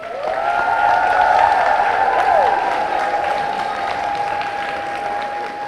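School audience applauding steadily at a celebration, a broad wash of clapping with a sustained tone running through it, loud and even across the whole stretch.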